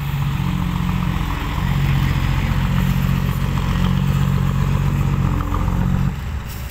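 A customized Honda Wave racing motorcycle engine idles and revs close by, a loud, steady buzzing drone with mechanical clatter that swells slightly midway and drops off near the end.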